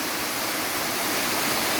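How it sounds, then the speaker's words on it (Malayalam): A small waterfall beside a plot of land pours in a steady, dense rush of water that fills the whole moment evenly, with no voices. "നമ്മുടെ സ്ഥലത്തിൻ്റെ സൈഡിൽ കൂടെ തന്നെ ഒഴുകുന്ന ചെറിയൊരു വെള്ളച്ചാട്ടമാണ് ഈ കാണുന്നത്"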